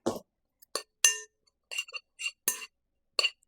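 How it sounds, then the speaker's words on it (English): A spoon stirs nutmeg and spices into a mixture in a glass bowl, giving a series of sharp, bright clinks and scrapes at an uneven pace, close and fairly loud, with no talk. "And we're just going to stir it around."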